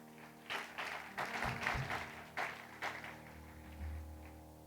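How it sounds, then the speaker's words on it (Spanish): A church congregation claps in several loud bursts of applause, uneven waves that rise and fade over a few seconds, close and lively. "Dale un fuerte aplauso a Jesús en esta mañana."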